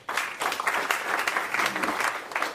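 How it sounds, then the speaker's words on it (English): Conference audience at FOSDEM 2017 breaking into applause after a talk, a dense, steady wash of clapping filling the room throughout. "So a round of applause."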